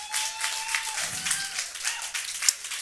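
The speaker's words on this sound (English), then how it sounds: "Y'all give them a round of applause" An audience claps together, a scattered, moderately faint patter of hands that keeps going steadily without a voice over it.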